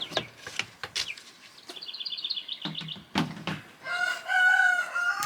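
Young Barred Rock and Jersey Giant crossbreed chickens chirp and cluck close by in a busy mix of short calls, with a brief rising series of peeps and a longer crowing-like call near the end.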